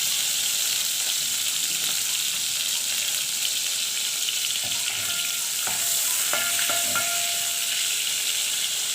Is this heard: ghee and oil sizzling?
yes